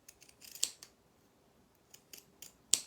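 Pinking shears snip through fabric, trimming the seam allowance on a sewn toy rabbit head, giving soft, close crisp cuts in short clusters with quiet pauses between them.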